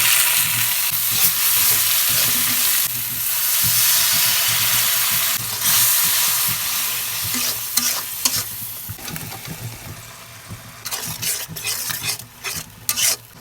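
Browned onions frying with cumin powder, turmeric, chili powder, ginger-garlic paste and salt, a loud close hiss of oil under repeated spoon scrapes that grow busier toward the end, with no talking.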